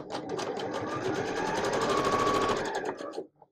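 A sewing machine stitches a quilt seam with a fast, steady mechanical whirr that runs loud and close for about three seconds, then stops abruptly near the end.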